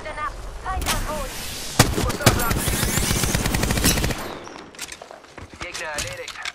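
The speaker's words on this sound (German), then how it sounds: "Ah, Schüsse! Und sie treffen mich!" Bursts of automatic gunfire with sharp single shots in the Apex Legends battle royale game, loud and close with rapid rattling volleys and a game voice speaking over the action.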